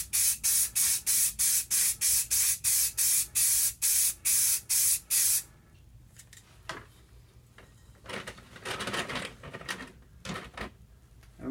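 Rapid bursts of spray paint hiss onto a Necromunda terrain floor tile, a dozen short evenly pulsed blasts, close and loud, then quieter rustling and a few softer sprays.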